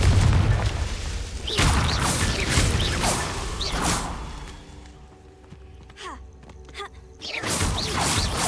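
A fiery blasting spell explodes in Hogwarts Legacy, a deep boom followed by whooshing and crackling effects, loud and close, then quieter bursts of game sound effects before another swell.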